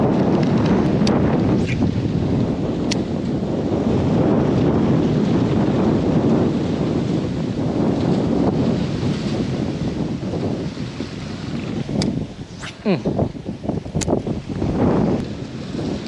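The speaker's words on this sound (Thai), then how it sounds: "ลมแรงจัด" Strong wind gusts roaring and buffeting the microphone beside flooded rice fields during snakehead fishing, a steady loud rush throughout with rougher bursts near the end.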